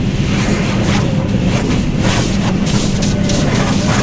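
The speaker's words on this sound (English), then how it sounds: "I could just fall asleep to that sound of all the jets hitting the truck" Pressure-washer jets spray hard against a truck at a truck wash, a loud, continuous hissing roar with uneven surges and gusts, close by and with no talk.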